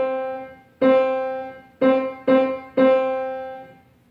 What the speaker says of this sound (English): This is distinctly different from emphasizing every note equally,